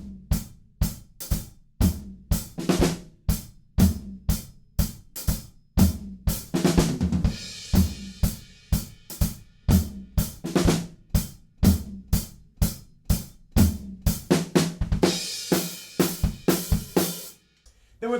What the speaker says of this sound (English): we've got this cool kind of floor tom thing where you probably will have to play hi-hats with your left hand and open up and play the floor tom